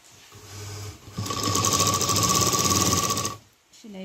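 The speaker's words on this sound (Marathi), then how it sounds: "शिलाई मारून घ्यायची." A sewing machine runs a seam on a small dholak bag made from a leftover scrap of cloth, a steady close whirring burst of about two seconds after a softer start, then stopping.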